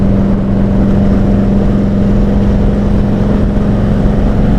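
A motorcycle engine runs loud and close with a constant deep drone and a strong steady low tone, heard alone without talk.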